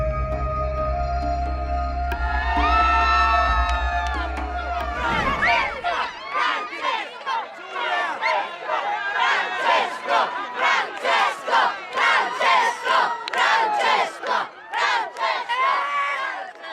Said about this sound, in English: Every Sunday in Rome, when he's in town, the Pope makes an appearance in St. Peter's Square to address and bless the crowd